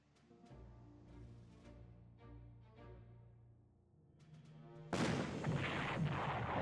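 Gunfire and artillery-style blasts from a grenadier attack in the strategy game Panzer Corps, a low droning tone giving way at the end to a loud, dense burst of crackling shots.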